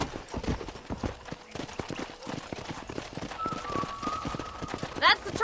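Repeated horse hoof clip-clops in the video game Red Dead Redemption beat in a steady trotting rhythm, with a brief horse whinny near the end.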